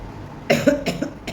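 A single close cough in two or three rough bursts, loud against a quiet room.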